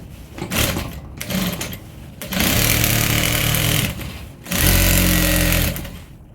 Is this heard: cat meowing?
no